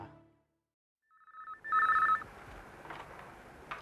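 An indoor telephone gives a short electronic ring in two quick bursts after a moment of silence, then gives way to faint room noise.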